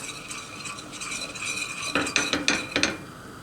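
Stirring a cup of flour into hot oil in a pan, a spoon scraping and clinking against the pan in quick, rhythmic strokes, growing louder and sharper toward the end, with no talking.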